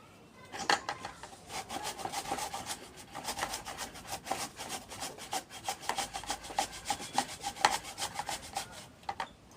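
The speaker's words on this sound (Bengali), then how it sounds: "আম ছোলা তোমাদের হয়ে গেছে তখন এটা এই ঘষনি দিয়ে ঘষে নেবো" Peeled mango is rubbed against a hand grater in quick, steady back-and-forth strokes, producing a close, rhythmic rasping scrape that continues throughout.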